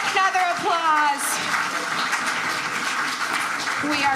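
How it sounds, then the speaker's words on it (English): Congregation clapping at a Shabbat evening service in honor of the synagogue's founders, a dense broadband patter heard up close with voices mixed in throughout. "Another applause."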